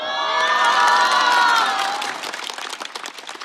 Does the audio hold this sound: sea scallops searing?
no